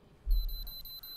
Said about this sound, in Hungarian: Ott szól az ébresztő, menni kell dolgozni.